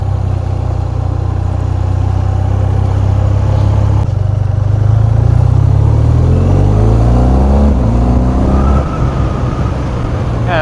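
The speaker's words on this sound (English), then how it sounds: "And the engine has a nice pull from the bottom there. It's definitely not lacking power." BMW R 12 G/S retro adventure motorcycle engine pulling hard from low revs, a loud close rising drone whose pitch climbs through successive gear runs, with a brief drop near the middle.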